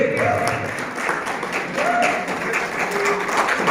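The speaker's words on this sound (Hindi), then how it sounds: "जोरदार तालियों से।" Audience applause at an Amway event as a couple is invited onto the stage, steady crowd clapping mixed with a voice speaking over it.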